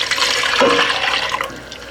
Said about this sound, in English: I put about 1/4 cup of the powder with 2 cups of water.